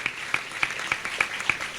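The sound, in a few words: congregation clapping to thank the Lord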